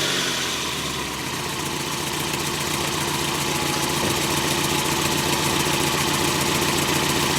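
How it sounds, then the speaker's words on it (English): A Mazda Miata engine idling with a slight lifter tick, heard close and loud as a steady, even mechanical run with a fine rapid ticking throughout. "this is how my car sounds, and it has a little bit of tick going on"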